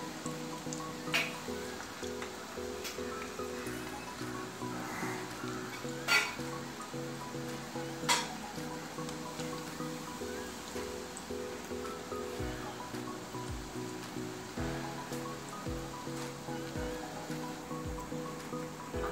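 Chakli made from rice flour fries in hot oil over a medium gas flame, giving a steady, soft bubbling hiss with occasional brief pops, heard under gentle background music.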